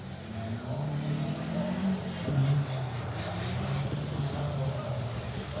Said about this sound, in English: Car 34, that's Peter Outram and Michaela Osborne in the Mark II Escort.